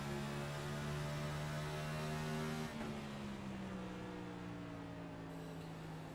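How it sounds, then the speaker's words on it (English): A NASCAR car with a sequential shifter in a racing video game set at Phoenix: a steady, buzzing engine drone with one clear gear change partway through, where the pitch drops and then holds, with no voices. "we'll hear them shifting up and down the gears"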